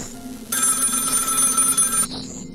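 A telephone in the game Find Yourself rings in one sustained electronic trill lasting about a second and a half, loud and clear over a low background hum, then cuts off abruptly.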